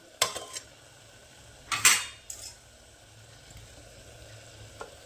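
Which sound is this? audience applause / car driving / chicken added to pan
chicken added to pan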